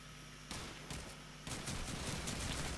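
Gunfire rings out in Call of Duty 2, with sharp shots followed by a denser burst of rapid fire that swells and keeps going, loud and close, with no talk over it.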